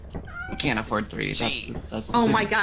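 A cat meows briefly in a video game near the start, heard under several players talking and exclaiming over one another.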